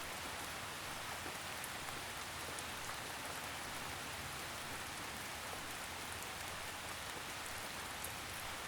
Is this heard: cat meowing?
no